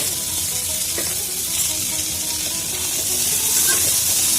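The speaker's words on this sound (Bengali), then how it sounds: "এবার আমি মশলাগুলো দিয়ে দেবো।" Spices going into vegetables frying in a pan for a vegetarian papad and mixed-vegetable curry, a loud steady sizzle and hiss with faint stirring scrapes, close up and continuous, with no talking.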